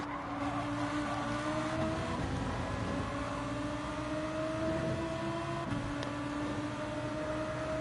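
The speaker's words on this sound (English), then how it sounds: "And listen to that noisy V10 engine scream down the straight" V10 racing car engine in Gran Turismo 7 during an online Nations Cup qualifier at Autopolis, Japan, a loud sustained high-pitched scream holding pitch down the straight, with a brief drop at a gear change.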